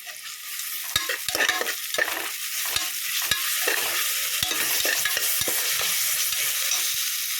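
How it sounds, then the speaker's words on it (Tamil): A steady, close sizzle of ginger garlic paste frying in a pan with a spatula repeatedly scraping and tapping the pan; no voices. "இஞ்சி பூண்டோட பச்சை வாசனை போகிற வரைக்கும் நல்லா வதக்கி விட்டுக்கலாம்"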